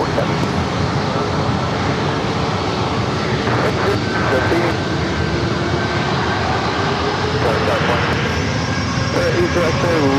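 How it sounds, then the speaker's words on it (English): A JetBlue Airbus A321 jet on a flight up from Boston passes at a San Diego airport, its steady engine roar filling the whole stretch with constant broadband rumble, while radio chatter and voices run over it. "That was JetBlue flight coming up from Boston, flight 219 and A321"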